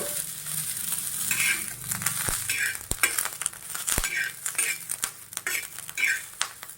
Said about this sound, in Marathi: मिरची भाजलेली आहे त्याच्यात आपण एक चमचा तेल टाकू